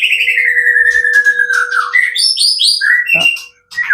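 A white-rumped shama (murai batu) sings loud and close at a bird-contest field, a long descending whistle followed by bright chirps and rising notes, nearly continuous with no talking.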